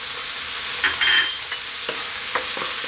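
Garlic ginger paste and curry powder fry over lively heat, giving a steady close hiss of sizzling with a few light scrapes as the mixture is stirred.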